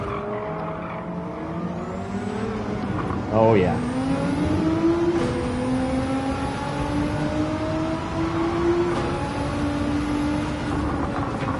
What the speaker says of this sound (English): oh, I like that anti-lag sound